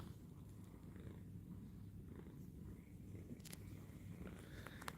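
A cat purrs steadily and close up while draped over a person's shoulders like a scarf, a low continuous rumble across the whole stretch with a few faint knocks near the end.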